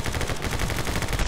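Fast, continuous automatic gunfire rattles through a short action video game moment, loud and close with bullets spraying in a steady rhythm.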